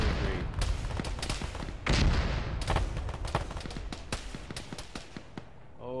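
Gunfire in the ShackTac military video game on a snowy map, with rapid overlapping shots and bursts cracking in quick succession, some near and loud, others more distant, trailing into sparser pops.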